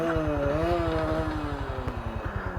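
A 2025 Honda GB350S single-cylinder air-cooled motorcycle engine idling close by with a steady, low, thumping pulse. A faint higher tonal whine from another source runs through the first half.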